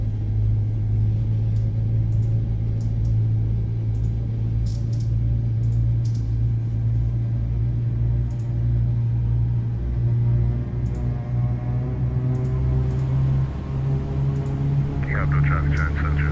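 Twin engines of a Boeing 777 freighter idle in the X-Plane 12 flight simulator, a steady low rumble and hum holding evenly throughout, with faint clicks above and a brief higher whine near the end.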